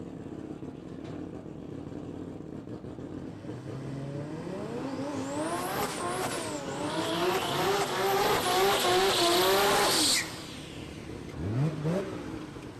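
A drag racing car makes a quarter-mile pass at Palmyra Dragway, its engine rising through repeated gear-change sweeps to a loud roaring peak, then cutting off abruptly, followed by a brief engine blip.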